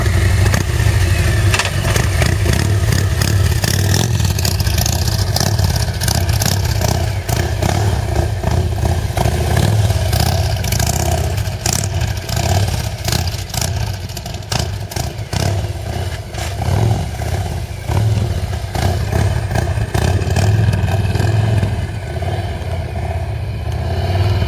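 A Harley motorcycle engine with a hydraulic clutch running steadily up close, a loud, continuous rumbling idle with uneven mechanical clatter throughout and no talk.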